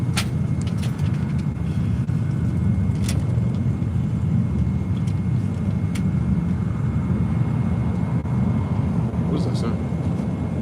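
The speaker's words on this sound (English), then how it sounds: "It sounds like a jet taking off." A steady, loud low roar like a jet engine fills the whole stretch, with a voice speaking briefly over it.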